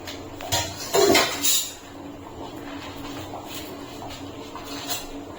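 A metal lid lifted off a pot where a chocolate cake is baking on the stove, a brief clattering scrape and clink early on, followed by a quiet low background hum.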